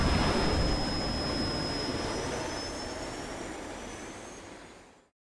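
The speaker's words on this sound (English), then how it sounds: "T. Gray and MK, you are now cleared for flight school takeoff." Simulated airplane engine in a flight simulator game, a steady loud jet-like roar with a thin high whine, holding for about five seconds and slowly fading before cutting off.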